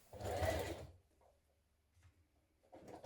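A sewing machine stitches the sleeve of a shirt in a short, fast burst of rapid whirring lasting under a second, followed by near quiet with a few faint handling clicks.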